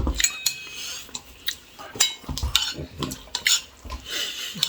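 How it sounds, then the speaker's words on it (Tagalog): Metal utensils scrape and clink against a pan as fried rice is stirred, with a steady run of quick irregular taps and scrapes, close and fairly loud, over a faint sizzle. "Nagluluto pa ako ng fried rice"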